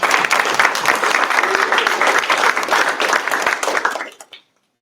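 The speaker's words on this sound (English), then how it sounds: "let's give a round of applause to all the founders." A startup-community audience at a Boston New Technology winter event gives the founders a dense, loud round of applause that holds steady for about four seconds, then quickly tapers off into silence.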